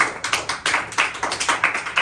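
A church congregation claps hands in praise during a Tamil sermon, a steady run of sharp, bright claps in a quick, slightly uneven rhythm, close and moderately loud, with no voices over it.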